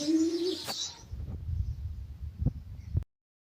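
A female pigeon coos softly close by in a box, a few low murmuring calls after a brief louder bird sound at the start.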